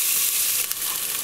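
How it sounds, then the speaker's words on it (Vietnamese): A steady, bright sizzle of minced shallots frying in hot oil, close and continuous, with a brief stir partway through. "mình cho hành tím băm vào"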